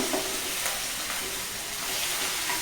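Potato omelette mixture sizzles steadily in a frying pan while being scrambled and stirred, a close, continuous frying hiss with faint scraping throughout.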